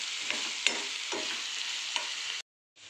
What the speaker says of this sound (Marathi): ह्याला ही मिरची मऊ होईपर्यंत ह्याला आपल्याला फ्राय